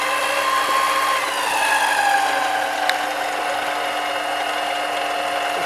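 A metal lathe cuts a small lead-in chamfer on a workpiece ahead of threading with a floating die holder, giving a steady close machining whir with a faint tonal cutting whine and one sharp tick midway.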